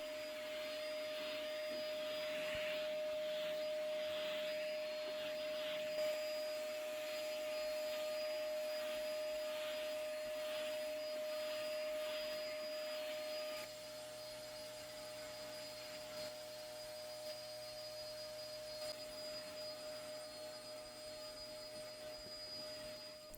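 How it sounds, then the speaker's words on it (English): A vacuum cleaner drones steadily up close while sucking dust off a high ledge, a continuous whining roar that dips slightly in level partway through. "we're going to really speed up the rest of this vacuuming up here"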